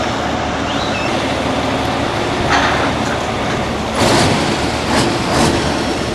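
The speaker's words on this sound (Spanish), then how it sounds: "Ahí va mi tren." Locomotive D-1810 rumbling past nearby as a continuous broadband roar, with a few louder clanks and hissing bursts toward the end.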